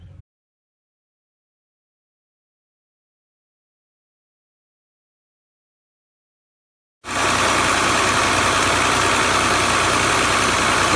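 Ford Taurus 3.0L 24v DOHC engine with a high idle fault settling into a steady, loud, close idle that starts abruptly after several seconds of silence and runs on evenly.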